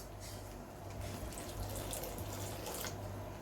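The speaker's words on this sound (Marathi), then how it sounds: "आता हे थोडं घट्ट झाले, यामध्ये आपण गरम पाणी ओतूया" Hot water is poured into a thickening dhaba-style whole masoor curry, a soft, steady splashing stream, fairly quiet and continuous, with no voices.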